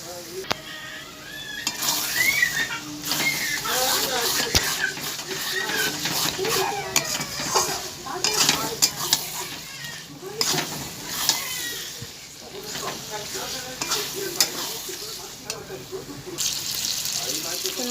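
Spices stir-fried in a pan give a steady sizzle with frequent scraping stir strokes throughout, close and fairly loud, with a voice talking over parts of it.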